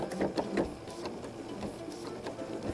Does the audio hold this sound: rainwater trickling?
no